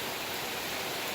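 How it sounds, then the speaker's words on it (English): Steady rain falling outdoors, a dense, even wash of noise with no distinct drops standing out, constant and fairly close, with no talking. "And it's raining again."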